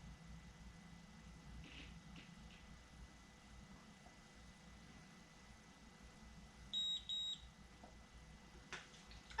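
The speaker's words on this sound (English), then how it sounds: "it just beeped letting me know that it's heated" A GlamTouche cordless auto curler gives a short pair of high electronic beeps once it has heated, sounding alone over a low, steady background hum.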